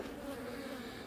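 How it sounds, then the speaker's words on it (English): Honey bees buzzing right outside a hive entrance, a steady, faint, continuous drone with no talk. "since it's got some bees in it, we're going to set it right outside the entrance here"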